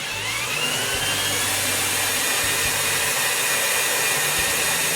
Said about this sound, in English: So now we're going to try to drill this in a little bit.